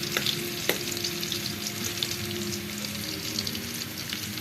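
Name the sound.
garlic sautéing and being stirred in a pan for adobo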